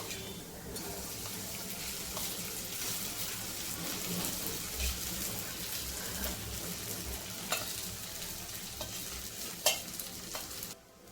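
Sabudana khichdi with crushed peanuts and salt stirred in a pan over low heat, a steady scraping and soft sizzle running throughout with a few sharper clinks of the spoon near the end.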